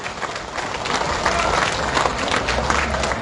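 Crowd applauding at a political solidarity rally for Najib Razak in Pekan, a dense, steady wash of clapping from many hands that holds loud and even throughout, with some cheering mixed in.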